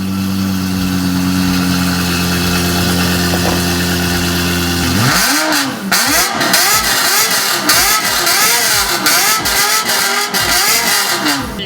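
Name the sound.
Lexus LFA engine revving with aftermarket straight-pipe exhaust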